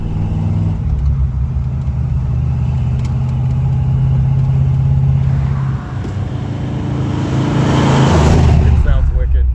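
The big-block engine of a 1973 El Camino SS runs steadily up close with a deep, rumbling idle, then swells louder near the end. People talk over it.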